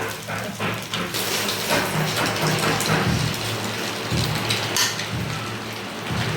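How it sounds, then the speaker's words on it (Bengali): Hard-boiled egg frying in hot oil in a pan, a dense steady crackle and sizzle with popping spatters throughout, fairly loud and close, with no talking. "এই তেলের মধ্যে ভালো করে ভাজতে হবে"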